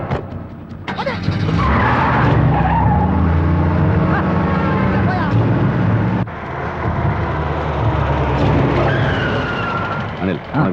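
A car pulls away hard with tyres skidding across the pavement, a loud sustained engine roar and screech lasting several seconds, with a brief break midway and people's voices mixed in.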